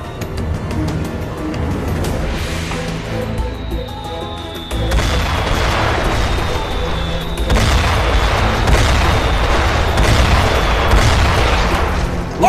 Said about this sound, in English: Mortar fire! Incoming!